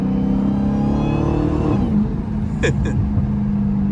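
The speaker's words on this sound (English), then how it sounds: "Oh y'all boy hear that, man. A little downshift." Supercharged Dodge Hellcat V8 on a drag pack, heard from inside the car as a steady loud engine drone with a rising rev that drops through a downshift, followed by a brief burst of higher whine.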